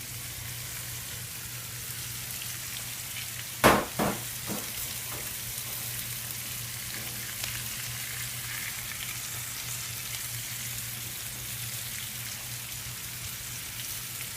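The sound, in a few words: spaghetti squash frying in bacon grease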